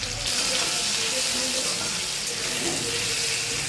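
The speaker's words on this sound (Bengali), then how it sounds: "আলুটাকে একটু ভেজে নিচ্ছি নুন হলুদ দিয়ে" Potatoes fry in hot oil with salt and turmeric, producing a dense, constant hiss and sizzle throughout, close and loud with no speech.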